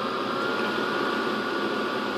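A handheld blow dryer runs continuously at home on grooming day, a loud, steady airy whoosh with no breaks and no voices.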